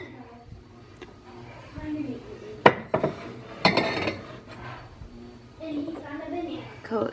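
Glass jars clinking and knocking as they are set onto a kitchen shelf during a decluttering, several sharp clacks in the middle amid softer handling sounds, with a voice speaking quietly at the start and end.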